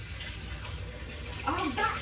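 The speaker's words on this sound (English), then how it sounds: "I gotta put water in my pan" Tap water runs into a cooking pan in a home kitchen while a lasagna is being made, a soft continuous splashing hiss that swells slightly near the end.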